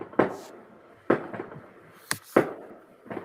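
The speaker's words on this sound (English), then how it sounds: "That's fireworks." Fireworks go off outside in a series of sharp, booming reports spaced about a second apart, with a few fainter pops and cracks between the louder bursts.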